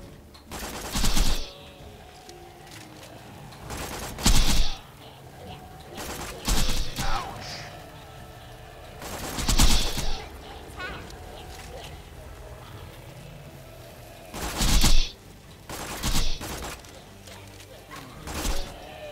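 Pistol gunfire in Borderlands 2 comes in short bursts of sharp shots every couple of seconds, loud and close against quieter game background.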